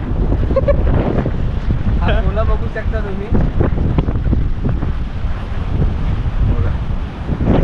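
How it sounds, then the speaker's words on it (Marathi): Strong wind buffets the microphone with a loud, constant roar at Mandvi Beach in Ratnagiri, waves surging beneath it while people talk throughout. "वारा बा काय सुटलाय आता नुसता वाराच वारा आणि लाटा येतो आहे"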